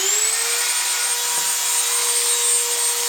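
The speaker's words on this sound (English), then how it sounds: "If you do want to use a Dremel, just get any kind of regular Dremel. Get the sanded end." Regular Dremel rotary tool with a sanding end, a steady high-pitched whine running at constant speed, close and fairly loud, with a faint touch of contact partway through.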